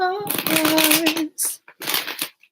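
Tarot cards shuffled by hand, quick papery riffling bursts in a couple of separate runs, close and crisp, following a snatch of sung music at the start.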